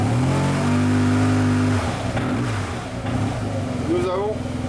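A 2008 Yamaha TMAX scooter engine revs up and settles, a loud, close droning whine that rises and wavers, with a voice talking over it.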